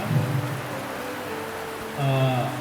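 Rain falls steadily as a dense hiss during an outdoor community religious gathering before Ramadan, with a voice audible through the downpour.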